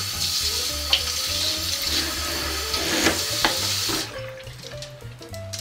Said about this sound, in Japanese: ロッドはこのようにシャワーで洗います。